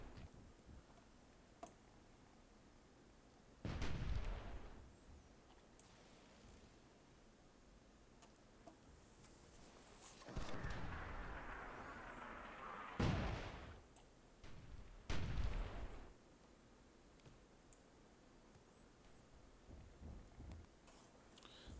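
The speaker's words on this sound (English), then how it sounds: "Dwarven mortars are going to work" Dwarven mortars firing and exploding in Myth II Soulblighter, a handful of heavy booms spaced several seconds apart over a quiet background, with rumbling tails after each blast.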